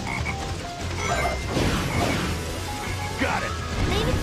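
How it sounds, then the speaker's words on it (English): A black frog croaks in the Sonic Heroes video game, loud croaks mixed with game effects, crashes and pops, and a voice speaking over the busy in-game action. "There's that black frog again."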